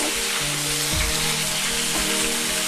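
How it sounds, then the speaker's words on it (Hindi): Chicken pieces fry in hot oil in a kadai, a loud, dense, continuous sizzle with faint clinks underneath and no one talking. "ये हम इसमें चिकन डाल रहे हैं फ्राई करने के लिए।"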